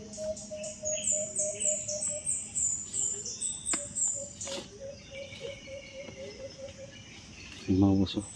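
Several birds sing and chirp outdoors at a hunting spot after overnight rain, with repeated high whistled calls over a steady insect-like background; a short low thump comes near the end.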